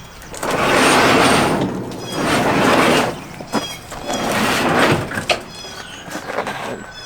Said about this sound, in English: let's get this garage door up and see the Charger